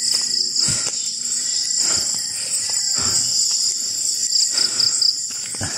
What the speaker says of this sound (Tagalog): Kuliglig ang maririnig nyo.